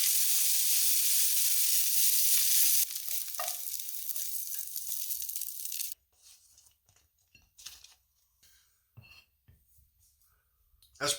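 Rehydrated hash browns and onions frying in vegetable oil in a pan, with a loud hissing sizzle at first that drops abruptly to scattered quiet crackles and small clinks.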